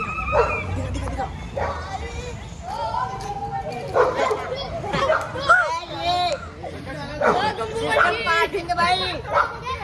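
A female pitbull in a park gives repeated yips and whining barks amid busy outdoor chatter, with people talking over and around the dog throughout.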